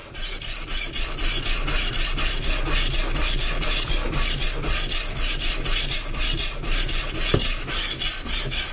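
A knife is sharpened freehand on a whetstone with rapid, rhythmic back-and-forth grinding strokes, a loud, close, continuous rasping scrape running throughout with one brief knock near the end.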